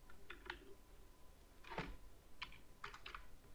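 Quiet typing on a computer keyboard while entering text into a Word table, a few scattered clusters of key clicks over a steady low hum.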